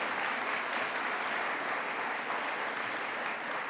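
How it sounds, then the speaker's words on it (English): Sustained audience applause at a Let's Move! anniversary event in Miami, steady and dense for several seconds at moderate distance, with no speech over it. "So let's give Amy a round of applause."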